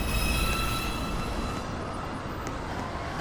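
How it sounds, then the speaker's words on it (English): A Manhattan-bound New York subway 2 train, an R142A, rumbles into the station with a steady low roar and faint wheel squeal, loud at first and easing slightly as it nears. "This is a Manhattan-bound 2 train. Approaching the station."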